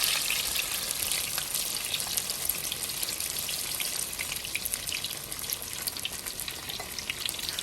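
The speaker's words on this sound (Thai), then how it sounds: "แต่นี่แหละครับสำหรับเมนูวันนี้ผมจะเจียวใส่ไข่แบบนี้เลยครับ" Turmeric mushrooms frying with beaten egg in hot oil, Thai style, giving a loud, steady, close sizzle that hisses without a break throughout, with no voices.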